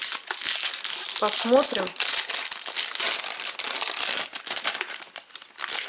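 Crinkly plastic packaging on a gift box rustles and crackles almost continuously while someone talks briefly over it, loud and close.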